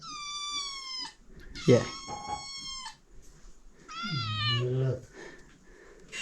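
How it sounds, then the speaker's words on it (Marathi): Several high, drawn-out kitten meows close by, repeated with short pauses, while a person speaks softly between the cries. "मोठ्या घरात मांजराने दोन पिल्लं दिलेत मोठे झालेत"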